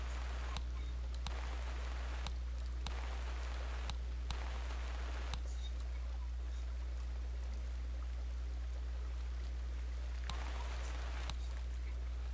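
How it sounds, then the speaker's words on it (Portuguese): Steady rain falls in the Farmer's Dynasty farming game, a continuous hiss with scattered drip-like ticks over a constant low hum, with no talking. "Não, tá chovendo mesmo."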